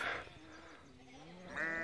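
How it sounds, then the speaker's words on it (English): Sheep bleat close by on a morning outdoors, two loud calls at the start and end with quieter bleating between, no talking. "I've got noisy sheep this morning."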